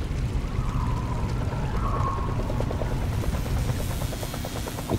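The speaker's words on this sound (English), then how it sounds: "I hear a helicopter." Steady low rotor thrum of a helicopter in the Roblox game Rainbow Friends Chapter 2, mixed with a continuous rushing noise, loud and unbroken throughout.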